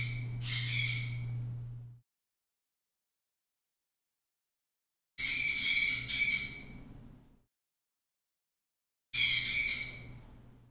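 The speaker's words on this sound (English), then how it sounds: "That's why the bird is freaking out." An indoor pet bird lets out loud, harsh squawks in three separate bursts, each lasting one to two seconds, with silence between them. The calls are close and heard alone.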